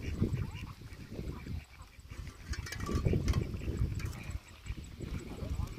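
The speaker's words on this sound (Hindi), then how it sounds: "देखिए बतख कैसे आ रहा है खाना खाने के लिए साइड में।" Ducks kept on a fish pond farm quack and honk as they paddle toward food, while voices talk over them through much of the stretch.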